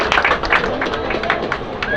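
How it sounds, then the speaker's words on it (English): A small group of people clapping their hands at a family gathering, a brisk run of uneven claps lasting a couple of seconds, with talking mixed in. "let's give her a hand clap"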